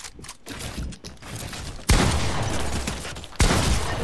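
Heavy gunfire in a video game, two loud sharp blasts followed by sustained rattling bursts, close and dense.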